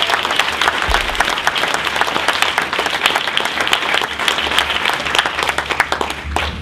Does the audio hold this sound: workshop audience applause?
yes